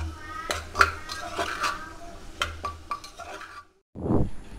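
A ladle scrapes and clinks against a pan as ridge gourd and chole are stirred and fried, with irregular metallic knocks, a soft sizzle underneath, a brief pause, then a louder scrape.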